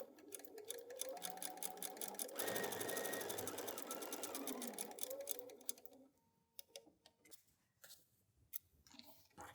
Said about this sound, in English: go ahead and sew that.